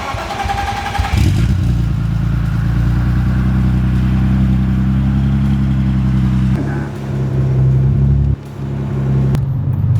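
An 800+ horsepower turbocharged BMW M Coupe engine roars and revs up under acceleration, pitch climbing with gear shifts, loud and close from inside the vehicle.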